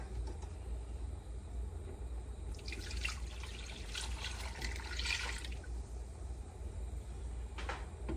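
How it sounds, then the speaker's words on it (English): Milk is poured into a bowl of bloomed yeast mixture for Texas Roadhouse-style rolls, a short liquid splash and trickle that lasts a few seconds over a steady kitchen hum. "Now we're going to add our milk."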